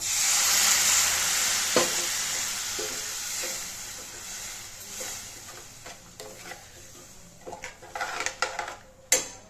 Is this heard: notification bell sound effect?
no